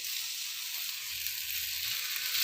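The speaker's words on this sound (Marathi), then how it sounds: "हे शेंगदाण्याचं तेल मी घालणार आहे आणि त्यामध्ये मासे तळून घेणार आहे" Sardines fry in peanut oil on a hot griddle for a crispy Konkan-style fish fry, giving a close, steady, bright sizzle with no talking.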